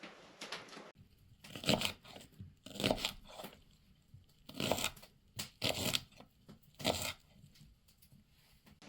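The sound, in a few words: knife chopping scallion small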